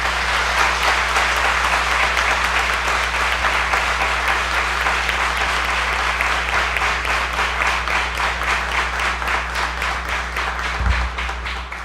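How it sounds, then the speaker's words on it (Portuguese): A church congregation applauds pastor João Sabino at a Renewed Presbyterian church homage service, with steady, dense clapping that holds for about twelve seconds at an even level before tapering slightly at the end. "E aí eu gostaria de uma salva de palmas, pastor João Sabino."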